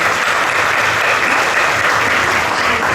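A festival crowd at the 45th annual Toronto Rath Yatra in 2017 claps in sustained, dense applause that stays loud and steady throughout, with no pauses.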